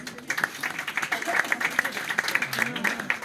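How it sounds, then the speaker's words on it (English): A crowd at a cancer fundraiser applauds steadily for a few seconds, a dense patter of many hands clapping at once, fairly close and moderately loud. "Please give her a big round of applause."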